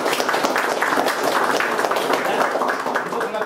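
Audience applause rings out for a Shell funding representative at a community event for a micro-hydro project in an Orang Asli village, Kampung Tanjung Rambai; dense, steady clapping fills the whole stretch at close range with crowd noise mixed in.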